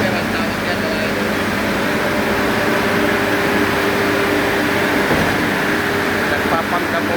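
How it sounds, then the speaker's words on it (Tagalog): A concrete pump at a park construction site in Pasig City runs steadily, pushing concrete upward with a continuous low machine drone and hum, heard close and loud throughout. "yung concrete pump. Yan yung makina na nagdadala ng konkreto doon sa taas."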